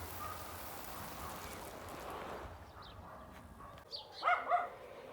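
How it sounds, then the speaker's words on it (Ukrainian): Steady heavy rain in a thunderstorm in Vinnytsia Oblast, Ukraine, hisses and patters for a few seconds, then eases, followed by a couple of short, distant dog barks. "Дивіться, який дощ лупить."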